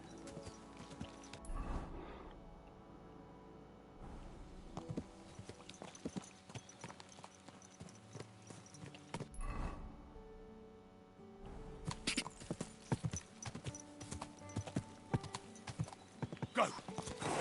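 Video game horse hooves in Kingdom Come: Deliverance II, from an over-encumbered horse, clip-clop in quick, uneven steps throughout, fairly quiet, with a few louder thuds and pauses between runs of footfalls.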